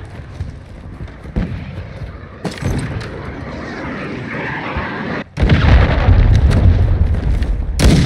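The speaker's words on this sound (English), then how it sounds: "Hostile cruise missile incoming!" In Call of Duty: Modern Warfare 2, rumbling battlefield noise and scattered blasts are followed by a sudden loud, heavy explosion that keeps roaring on, with faint voices in the mix.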